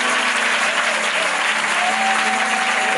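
A church congregation bursts into steady, sustained applause filling the room, with a faint held tone beneath the clapping.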